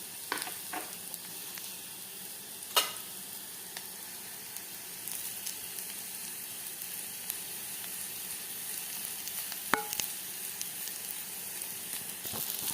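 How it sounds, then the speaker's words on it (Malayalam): Ginger garlic paste sizzling in a pan with fried onions, a steady close frying hiss with occasional soft pops and scraping stirs, no talking. "ഇനി നമുക്കിതിലേക്ക് നമ്മൾ എടുത്തു വെച്ചിരുന്ന ജിഞ്ചർ ഗാർലിക് പേസ്റ്റ് 1 ടീസ്പൂൺ ചേർത്ത് കൊടുക്കാം."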